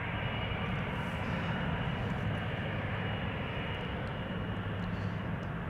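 KLM Boeing 777-200 jet rolling for departure at Amsterdam Schiphol Airport, a steady, heavy roar of engines with deep rumble filling the air, loud and continuous without letup.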